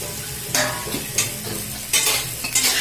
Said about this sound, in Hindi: दोनों के हम 2 मिनट भूनबे।